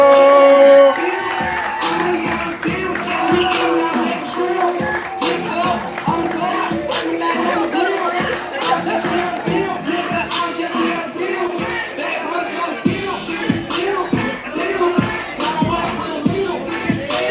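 An open mic poetry audience cheering and clapping for a poet, a loud, steady wash of applause with whoops and shouts running throughout, voices calling out over the crowd.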